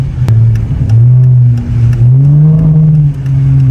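A car engine revs loud and close, its pitch rising and falling in sustained surges, with a brief sharp click near the start.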